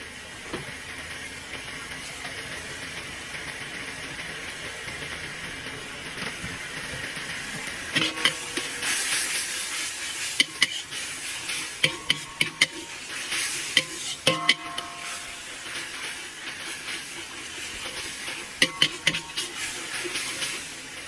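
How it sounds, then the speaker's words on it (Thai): Pork stir-frying in a pan with fermented soybean paste for a Thai rad na dish gives a soft, steady sizzle and hiss, broken by light scraping clicks of the spatula against the pan, with no talking. "เราจะผัดไปสักแป๊บ"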